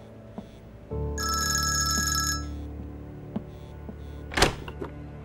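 A telephone rings indoors in a dubbed Turkish drama, one bright electronic ringtone burst lasting about a second and a half over a low hum, followed by quiet with a few faint knocks and a sharp thump.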